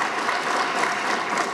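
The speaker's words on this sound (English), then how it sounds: "I would like to ask all of you to applaud His Excellency" An audience applauds an official at an opening ceremony, a dense, sustained wash of many hands clapping at once, loud and steady throughout, with no voices on top.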